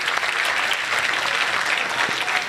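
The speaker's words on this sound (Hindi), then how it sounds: "ये तालियां कम है, जरा तालियां मजीद होनी चाहिए" A crowd at an Urdu poetry mushaira applauds a poet with dense, lively clapping that holds steady and close throughout, with no speech over it.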